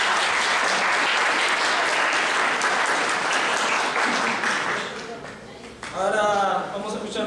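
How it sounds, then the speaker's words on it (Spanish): Loud, dense audience applause for a law school director at a university legal-political lecture session in Peru, sustained clapping that thins out near the end before a voice speaks over it. "les pido un aplauso"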